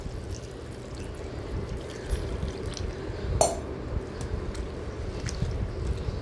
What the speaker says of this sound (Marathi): तर आधी पाणी टाकून मी कोबी स्वच्छ धुवून घेते।